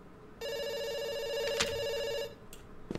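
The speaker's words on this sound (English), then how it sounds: "It's ringing." A telephone rings in the video game Dr. Langeskov, The Tiger, and The Terribly Cursed Emerald: one steady electronic ring lasts nearly two seconds at moderate volume, then stops and leaves quiet background with faint clicks.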